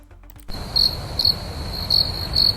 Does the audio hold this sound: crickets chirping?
yes